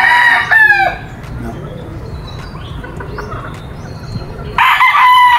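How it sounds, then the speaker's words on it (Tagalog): Gamefowl roosters on a game farm crow loudly and close at the start and again at the end, with softer scattered clucking and farm ambience in between. "Ayan mga tol yung manukan ni Boss Enrico."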